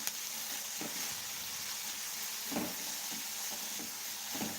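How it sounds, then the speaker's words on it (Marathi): Chopped onions fry in a pan for a quick onion chutney, giving a soft, steady sizzle with occasional faint stirring scrapes, quiet and with no talking. "कांदा चांगला लालसर होईपर्यंत परतून घ्यायचा"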